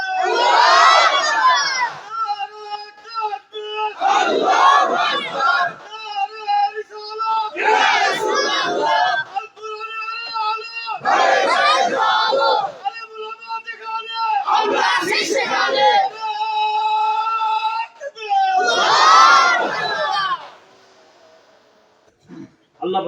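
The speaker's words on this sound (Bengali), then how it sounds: "একবার তাকবীর দেন, নারে তাকবীর।" A large crowd at a religious gathering chants the takbir in unison, a leader's call answered by loud, sustained mass shouts in about six regular waves, echoing through a PA system before falling quiet.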